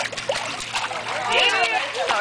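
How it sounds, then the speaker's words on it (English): A young child splashes in swimming water, with continuous close splashing and sloshing while adults talk and coo over it. "Splash!"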